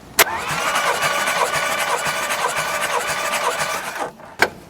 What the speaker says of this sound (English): let's retest the compression on number 1 cylinder